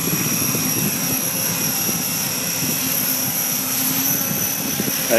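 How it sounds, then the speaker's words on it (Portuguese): Steady helicopter rotor and engine drone from a model 550 helicopter during a test run, close and loud, holding constant without a break; no talking. "Aí está testando aqui o meu helicóptero 550"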